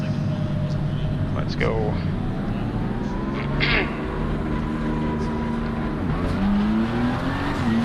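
Race car in Assetto Corsa Competizione starting up in a GT pit lane, engine droning steadily with rising revs and a brief higher whine, under someone talking throughout.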